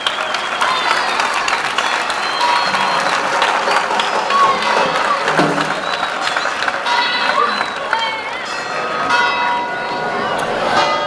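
An outdoor crowd at a town-square dance night applauds the band's orchestra director, with sustained clapping mixed with cheering, bell-like tones and scattered voices throughout.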